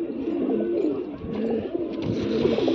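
Pigeons coo softly and continuously in low, throaty murmurs, close by, with no talking.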